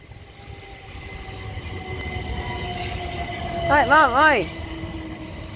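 Class 377 passenger train passing through Ewell East station, a steady rumble of wheels and carriages with a brief warbling squeal near the end, while a person speaks briefly.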